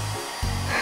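A hair dryer switches on and blows with a steady, close whooshing hum.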